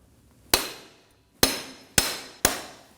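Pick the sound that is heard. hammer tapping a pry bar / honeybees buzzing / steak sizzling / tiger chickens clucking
hammer tapping a pry bar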